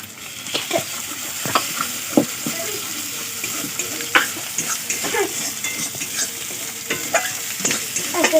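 Ginger, nigella seeds and green chili paste frying in a pan with a steady oily sizzle, broken by repeated scrapes and clinks of a spoon stirring, close up and fairly loud.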